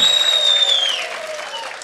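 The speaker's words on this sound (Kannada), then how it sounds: "ಜೋರ್ ಚಪ್ಪಾಳೆ ಬರಬೇಕು" Loud, sustained applause from an audience at a Kannada film title launch event, dense clapping filling the whole stretch with a faint crowd murmur and a high whistle-like tone fading early on.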